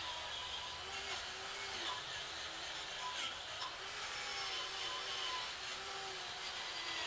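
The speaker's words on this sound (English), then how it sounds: "Now we're just going to put the old electric wire brush on it, give it a tidy up, take the scale off." Electric wire brush on an angle grinder scrubbing scale off a hand-forged iron handle, a steady, continuous abrasive whirr and rasp that holds level throughout, close up with no talking.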